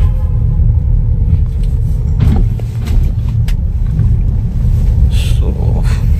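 Tata Harrier SUV climbing uphill inside a tunnel in second gear, a loud steady low engine drone and rumble echoing for several seconds, with faint scattered knocks and no clear talk.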